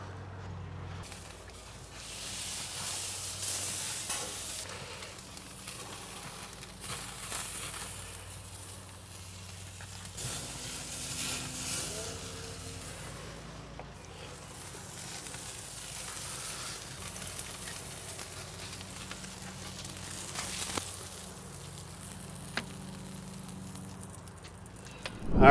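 A thick tomahawk steak sears on a very hot grill with a steady close crackle and sizzle for about 25 seconds. The sizzle stays fairly even with brief bursts and pops, and no talking is heard.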